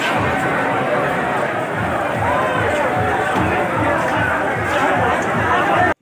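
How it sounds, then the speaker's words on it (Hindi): A large crowd chatters and shouts in a dense, continuous babble at the Lat Sahab Holi procession in Shahjahanpur, close and loud throughout with no single voice standing out. "काफ़ी भीड़ यहाँ पर अभी इकट्ठी है"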